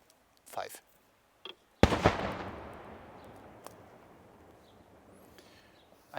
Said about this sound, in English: I think that was it with the fireworks now